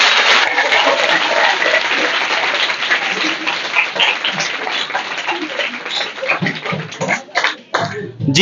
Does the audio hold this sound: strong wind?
no